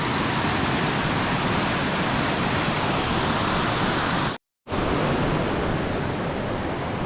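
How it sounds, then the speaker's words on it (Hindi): A flooded river rushes past a damaged village road after landslides, a loud, steady roar of water that cuts out briefly before resuming. "ये देखिए अब फिर ये नदी यहाँ पहुँच जा रही है"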